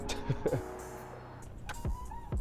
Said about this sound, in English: Hold on, we got some cars coming.